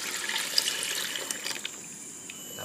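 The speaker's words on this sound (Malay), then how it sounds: "Terus masuk air gula merah tadi." Palm sugar syrup poured into coconut milk for a village-style bubur cukur jambul, a steady close trickle and splash of liquid, moderately loud with no one talking.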